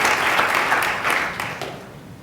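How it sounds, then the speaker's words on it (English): Audience applause for a professor at a university launch event, dense and steady clapping from a crowd that holds loud throughout, then gradually tapers toward the end. "Please give him a round of applause."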